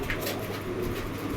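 Pigeons at a fancy pigeon sale, including one imported from Dubai, give soft low cooing in a short burst, close and fairly quiet over faint background noise.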